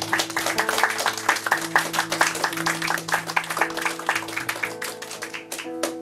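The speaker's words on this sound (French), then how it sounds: "On applaudit, mesdames et messieurs." A crowd at a tribute evening for Raôul Duguay bursts into sustained applause, many hands clapping briskly at close range over a faint steady hum, with the clapping tapering slightly toward the end.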